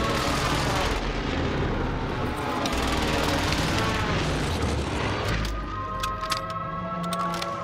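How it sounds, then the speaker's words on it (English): Precision airstrike in Call of Duty: Modern Warfare, a sustained rumbling barrage of heavy blasts and roaring impacts lasting several seconds, loud and dense, easing near the end as tonal game sounds emerge. "Friendly precision airstrike inbound."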